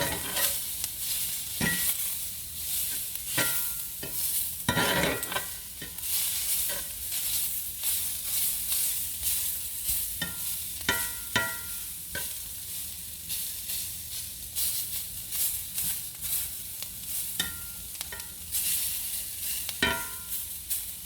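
Fajita-seasoned shrimp sizzle steadily in a hot pan, with repeated scraping stir strokes and clatter from a utensil cutting through the constant frying hiss, close and fairly loud.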